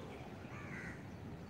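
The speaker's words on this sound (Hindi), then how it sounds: "पक्षियों की मधुर आवाज़ का आनंद लें" Outdoor birds call during a morning yoga session, with crow-like caws over a steady broadband wash of open-air background noise, moderately faint and with no voices.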